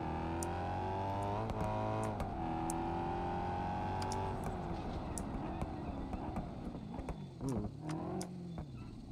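Car engine in BeamNG.drive revving and sweeping up and down in pitch, with a string of short sharp backfire pops crackling over the drone, loud and close throughout.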